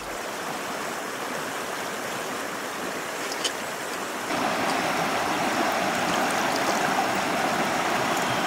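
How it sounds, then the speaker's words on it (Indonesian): A river runs steadily right in front of a tent at a camp, a continuous broadband rush of flowing water that grows slightly fuller and louder midway through, with no voices. "Beruntung, sungai berada di depan tenda saya"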